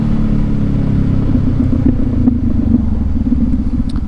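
A 2019 Honda CB500X motorcycle cruises in Portland, its engine holding a steady, loud low rumble with a constant hum and wind, heard from the rider's position without talk.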